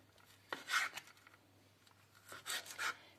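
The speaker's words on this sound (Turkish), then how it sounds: "Ciğerlerimi şöyle uzun uzun jülyen şekilde doğrayacağım." A few quiet knife strokes cutting chicken livers into long julienne strips on a board, two short bursts of slicing about two seconds apart, with no talking.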